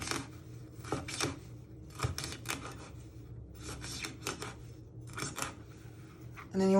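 A knife finely slices fresh thyme on a cutting board, giving quick bursts of crisp, close chopping strokes in uneven clusters, with short pauses between runs.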